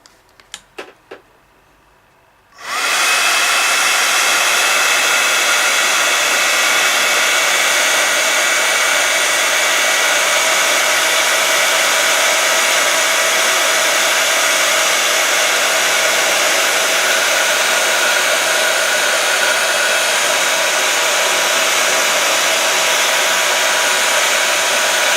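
A heat embossing tool blows hot air steadily over teabag mixed-media art, a loud continuous whoosh switching on after a few faint clicks and running without pause, close to the mic.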